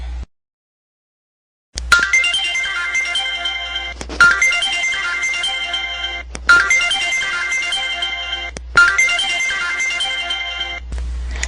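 A telephone rings in four long repeating bursts after a brief silence, loud and close, with no voices.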